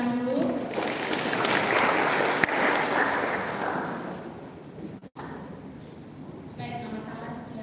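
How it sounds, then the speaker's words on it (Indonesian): Congregation applause fills a church during an Alor ethnic culture month worship service, a dense sustained clapping that swells early, holds steady, then thins out near the end. "Berikan tepuk tangan dulu."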